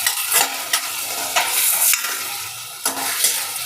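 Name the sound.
stirring vegetable upma mixture in a pan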